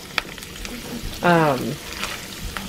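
Sauce bubbling up in a pan on medium heat, a short swelling burst of sizzling and bubbling in the middle, with a person talking around it and light stirring clatter.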